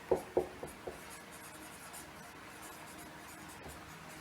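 A pen scratches across paper during a Class 10 heat and temperature lesson, a few quick firm strokes at the start followed by faint, light scribbling, with no talking.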